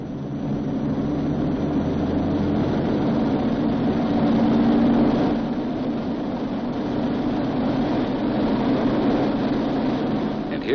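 Four piston engines of a B-29 bomber running up toward full military power for takeoff, a heavy, continuous low drone that swells slightly midway and holds steady throughout.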